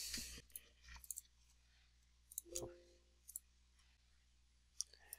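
Mouse clicks in RoadEng software: a handful of sparse, quiet clicks scattered across a near-silent background, with no talking.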